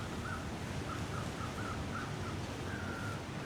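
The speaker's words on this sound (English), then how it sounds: "And I'm hearing crows" Crows in The Long Dark video game give a string of faint, short caws, about eight in quick succession, ending with one longer call, over a steady wind-like hiss.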